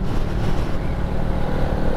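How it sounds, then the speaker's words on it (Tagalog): Strong wind buffets the microphone at a beach, a steady loud roar filling the whole stretch without a break, with no one talking. "Lakas ang hangin dito."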